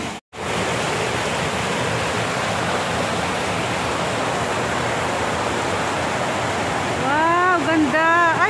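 Steady, broadband rush of water splashing from a fountain in Hong Kong Park, loud and continuous throughout, with a brief dropout near the start and faint high chirps joining toward the end.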